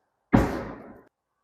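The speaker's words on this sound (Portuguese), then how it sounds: "você pode abrir o porta-malas, aqui ó, tem essa opção também, pelo controle remoto aqui" A Volvo XC40 Plus tailgate opens by remote control, a single close, fairly loud thump followed by a short fading mechanical release, with no talk.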